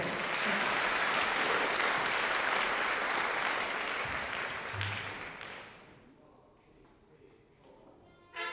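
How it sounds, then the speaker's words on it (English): Audience applause after a piece by a small string ensemble at a concert, broad steady clapping that holds for several seconds, then thins and fades to a few scattered claps near the end. "Round of applause."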